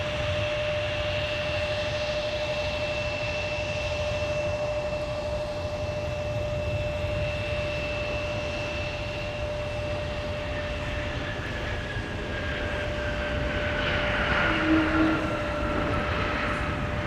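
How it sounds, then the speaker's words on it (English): A jet airliner on arrival touches down on runway 12 right at Minneapolis–St. Paul airport in winter, a steady engine roar with a sustained whine, swelling slightly near the end, no talk. "Got another arrival about to touch down on 12 right."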